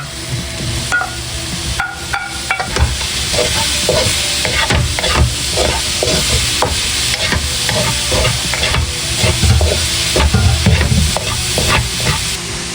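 Hotdog pieces fry in a pan for creamy spaghetti, with a loud, continuous sizzle and repeated scraping and clanking of a utensil as it is stirred, heard alone without talk.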